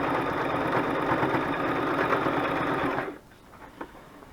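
A sewing machine stitching a lacy junk journal cover runs at a steady, fast, close whir for about three seconds, then stops abruptly, leaving faint quiet handling noise.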